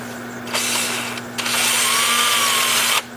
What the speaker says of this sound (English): Then I'll switch to my 2-inch sanding disc,